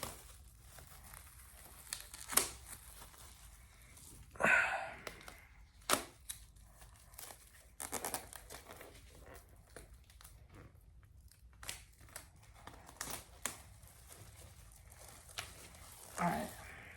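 Shrink wrap being peeled off a vinyl LP, scattered close crinkling and tearing bursts spaced over quiet stretches, faint and intermittent.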